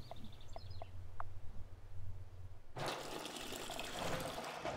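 Water is placed in the city-building game Block'hood, a sudden loud rush of flowing, splashing liquid that cuts in after a quieter stretch of small chirps and clicks and runs steadily to the end.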